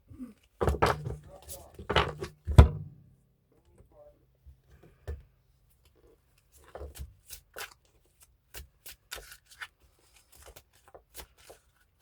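Playing cards handled and laid out in a tarot-style reading: a cluster of soft riffling and slapping card sounds up close at the start, then scattered light taps and flicks as cards are set down, with quiet gaps between.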